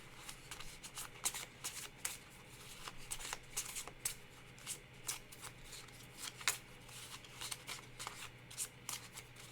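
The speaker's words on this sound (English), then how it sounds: "Shuffle and draw." A deck of game cards is riffle-shuffled repeatedly during a solo tabletop card game, making crisp, close fluttering bursts in an irregular rhythm with soft handling noise between.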